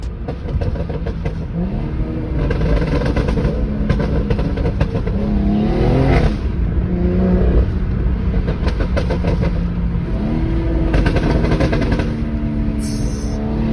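A 2017 BMW M240i with a catless downpipe revs hard and loud and close, its engine climbing and dropping across several pulls with crackling exhaust pops and downshifts between them.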